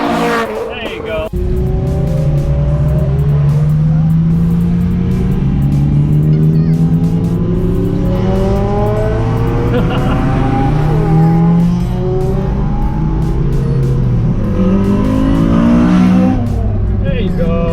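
An Acura RSX Type S on a touge mountain road revs hard through the gears, with rising engine whines repeating and tire squeal, loud and close throughout.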